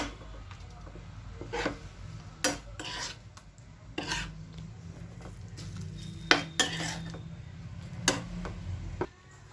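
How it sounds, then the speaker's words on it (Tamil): Egg masala is stirred in a pan, with a spoon scraping and clinking against the metal in irregular strokes over a low background hiss, and no one speaking. "மசாலா ஃபுல்லாக நல்லா மிக்ஸ் ஆகிற மாதிரி பார்த்துக்கோங்க"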